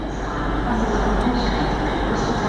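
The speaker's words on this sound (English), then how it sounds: "looks like we have another cross-country train coming in as well now" A cross-country passenger train pulls into Exeter St Davids station as a steady loud rumble with a faint high tonal whine, continuous across the short stretch.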